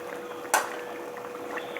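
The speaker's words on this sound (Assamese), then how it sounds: "জালুকৰ গুড়িখিনি দিয়াৰ পিছত ভালকৈ লৰাই আৰু 2 মিনিটমান সময় উতলিবলৈ দিব।" Curry of banana flower and lentils simmering in a pot after black pepper powder is stirred in, a steady low bubbling hiss with one brief clink near the start.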